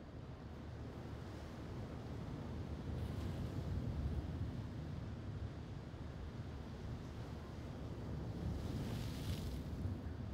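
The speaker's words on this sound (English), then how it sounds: "Nothing but the waves" Sea waves wash in the VR shooter game Onward, a continuous rushing surf with gusty swells, steady and fairly loud and heard alone.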